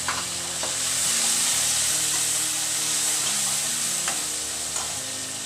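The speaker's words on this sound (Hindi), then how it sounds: "अब मैं इसमें लहसुन अदरक का पेस्ट डाल दूंगी।" Garlic-ginger paste fries with golden onions in a pan for a bhindi gosht curry: a loud, steady sizzle runs throughout, with light stirring scrapes and no talking.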